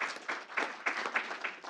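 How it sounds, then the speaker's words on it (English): An audience at a school board meeting claps for a student named the state's Gatorade cross-country runner of the year, in short uneven bursts of applause at moderate distance. "Clap for Cole."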